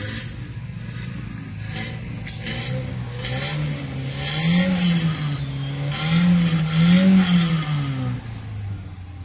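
A motorcycle engine revving nearby, a steady droning idle that rises and falls in pitch through several throttle swells, loudest toward the end, with faint background noise.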